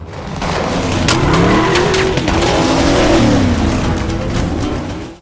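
A car in a movie chase scene skids with long squealing tires over a roaring engine, loud and close, for several seconds before cutting off sharply.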